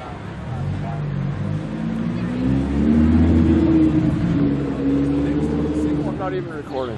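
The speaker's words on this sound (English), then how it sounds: "And here it comes around. The Lambo that just gave us a few revs." A Lamborghini Gallardo's engine roars past close by, its pitch rising and falling as it accelerates, with people talking and reacting over it.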